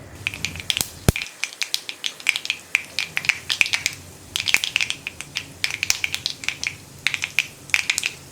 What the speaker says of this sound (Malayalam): ഇപ്പോൾ നമ്മുടെ കടുക് പൊട്ടി കഴിയാറായിട്ടുണ്ട്